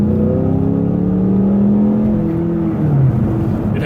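A 2015 Ford Mustang EcoBoost accelerates hard from a standstill, its engine droning loud and close with rising pitch through the gears and no talk over it.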